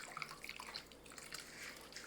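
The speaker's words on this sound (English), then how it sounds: "Then you're going to pour this over your pickles that you have in your pan." Red cinnamon pickle liquid is poured over pickles sitting in a pan, heard as a soft, close stream of splashing and dripping with scattered bright droplet plinks, quiet and continuous, with no talk.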